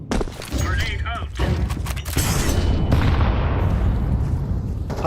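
A grenade detonates in Counter-Strike with a loud, booming blast that carries a rumbling tail, heard amid competitive match gameplay.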